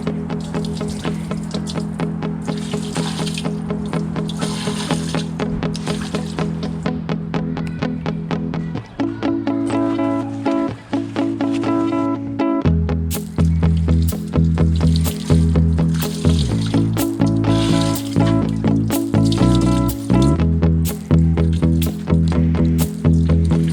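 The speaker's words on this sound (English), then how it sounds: "I'm gonna go ahead and wash them up right here outside real quick with some soap and water" Wheels being washed outside with soap and water: continuous splashing, sloshing and scrubbing, loud and close, with shifting rhythms throughout and no talking.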